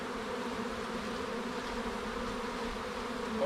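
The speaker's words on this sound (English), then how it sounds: "I see 8 full frames of bees." Honey bees swarm around an open beehive frame, producing a steady, dense buzzing drone close by with no voices.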